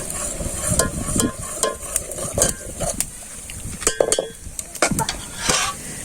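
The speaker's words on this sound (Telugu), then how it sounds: "మొత్తానికైతే మటన్ కూర వండుతున్నావు" A spoon scrapes and clinks against a metal pot of mutton curry in quick irregular strokes while it sizzles softly underneath on a village wood-fired stove, close and fairly loud.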